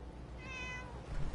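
A single short cat meow sounds in Fallout 4's Far Harbor setting, a clear, slightly rising cry heard over a low ambient background.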